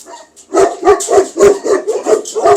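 Large guard dogs, Tibetan Mastiff or Kangal, bark in a steady rhythm of about seven deep, loud, close barks, guarding their territory in an outdoor enclosure.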